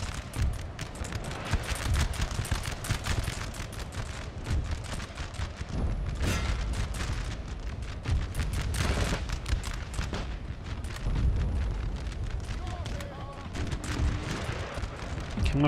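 Musket volleys crackle almost without pause across a Napoleonic battlefield in the strategy game Napoleon Total War, dense overlapping shots with heavier booming swells, like massed infantry firing at will at a distance.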